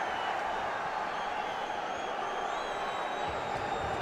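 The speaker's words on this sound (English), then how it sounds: "Crowd cheering." Steady roar of a football stadium crowd at a Coventry City versus Sunderland match as a corner is about to be taken, a dense, continuous wash of cheering voices that holds at an even level throughout.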